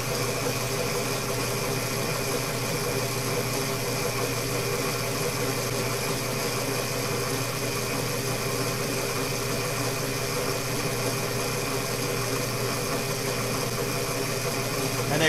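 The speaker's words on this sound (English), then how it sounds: "So you'll be seeing the RPM on my generators running at 455." FTC AC generator running at 455 RPM for 60 Hz output, giving a steady, dense mechanical hum and whir at constant loudness with no variation throughout.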